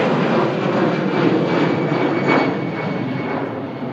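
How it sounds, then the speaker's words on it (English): An EasyJet Airbus A320 with sharklet wingtips departs, its engines a loud, steady broadband roar that swells briefly midway, with no voices over it. "Airbus A320 just departing there with EasyJet"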